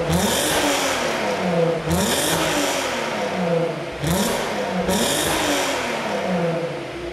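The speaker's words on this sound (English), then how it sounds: "And we've got this lovely exhaust, which definitely does sound pretty good." The exhaust of a VW Golf R32 is revved repeatedly, each blip climbing and falling in a rasping surge, about five rises in a few seconds, close and fairly loud with no talking.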